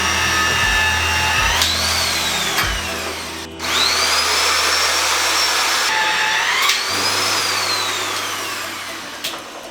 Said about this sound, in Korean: TS 볼트가 양쪽에 다 들어가고 나면 TS 볼트를 샤렌치로 조여서 완전히